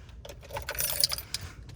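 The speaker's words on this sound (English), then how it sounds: "You're gonna hear that clicking." A few small, sharp mechanical clicks from a fuel pump relay in a race car, ticking irregularly over a low background hum.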